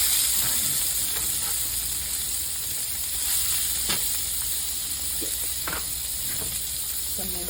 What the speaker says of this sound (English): Add a little bit more oil to my pot. And then I'm going to add half of an onion chopped.